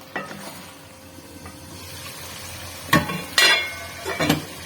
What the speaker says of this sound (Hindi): लेकिन हम इसको आलूओं को लाजमी भूनेंगे मसालों में।